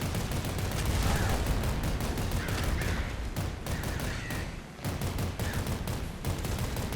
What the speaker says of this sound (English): Come here, you crow.